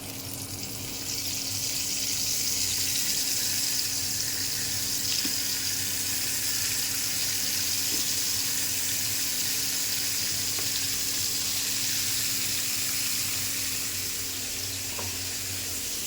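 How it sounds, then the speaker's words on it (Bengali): Fish shallow-frying slowly in a tablespoon of oil in a hot frying pan, a steady, even hiss that holds at one level throughout with no voices. "মাছ ভাজা আস্তে আস্তে হবে"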